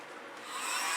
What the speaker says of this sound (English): My little blower is on.